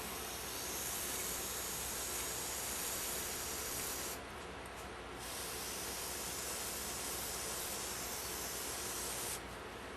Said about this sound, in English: get any metal shavings or loose debris out of these holes. We'll use compressed air.